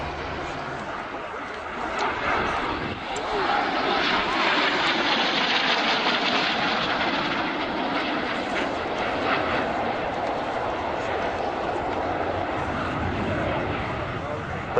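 A very old Folland Gnat jet taxiing at an airshow, its broad engine roar and whine swelling and holding steadily, with a commentator talking over it.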